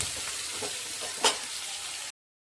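Onions and green chillies sizzle steadily in a hot pan for about two seconds, a spoon giving a few soft scraping stirs and one brighter clack, before the sound cuts off abruptly.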